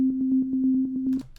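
An Electra X synth pluck in FL Studio repeats the single note C5 in a fast, even pulse of about a dozen hits, a steady tonal drone-like stream that stops abruptly just over a second in, with no voice.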